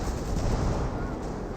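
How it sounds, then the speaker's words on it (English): Artillery barrage in the WWII strategy game Company of Heroes 2, OKW against British forces: a dense, continuous rumbling roar of shelling, loud and unbroken for the whole moment. "Another barrage there to displace the Vickers."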